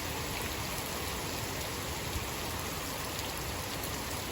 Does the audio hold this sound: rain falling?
yes